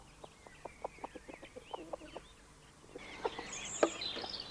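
Chickens in a permaculture smallholding cluck in a quick run of soft, evenly spaced notes, then louder, busier clucks and squawks join as the flock grows more animated.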